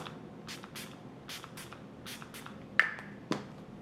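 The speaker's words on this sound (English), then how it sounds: "Catrice did a good job on that mister. It was very fine, not too aggressive, very sort of really nice fine mist." A Catrice setting spray mister pumped in a series of short, soft, breathy bursts, around eight quick puffs spaced irregularly, with a couple of sharper clicks from the nozzle in between.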